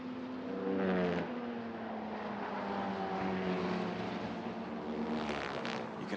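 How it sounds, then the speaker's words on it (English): Formula Regional race car engines roar past at the Red Bull Ring with rising and falling pitch and a rough rattling as they cross a rumble strip, loud and sustained. "Hear the sound of the cars as they come over the rumble strip."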